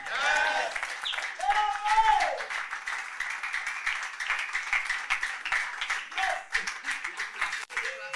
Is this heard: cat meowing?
no